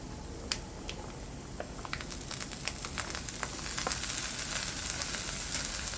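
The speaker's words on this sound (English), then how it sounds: "Now you're gonna add the feta cheese in." Feta cheese melting into creamy eggs in a pan gives a steady, soft, even sizzle with light pops and crackles throughout, close and fairly quiet with no talk.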